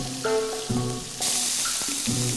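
Meat frying in oil in a pan, a steady close hiss and crackle that swells loudly partway through, with some tonal background sounds alongside.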